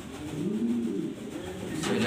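A female pigeon about to lay her last egg coos in a steady low rolling drone, close and continuous throughout with no talk over it.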